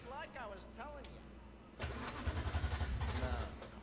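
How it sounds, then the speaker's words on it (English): A car engine cranking and catching in Cyberpunk 2077, turning over then settling into a pulsing idle, following a stretch of talking. "Start the engine, baby."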